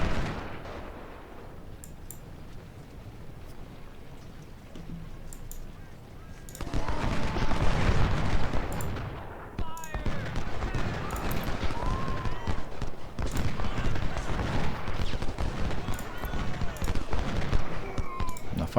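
Artillery and musket gunfire from the Civil War strategy game Ultimate General: Civil War, a quiet opening giving way to dense, continuous rattling volleys and booms that stay loud to the end, with a voice now and then.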